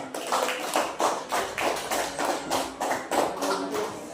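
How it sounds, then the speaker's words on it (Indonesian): A classroom of primary school children in Maurole claps in a steady, rhythmic unison beat, about three claps per second, moderately loud and close, with no talking over it. "kita berikan aplaus untuk kelompok 3"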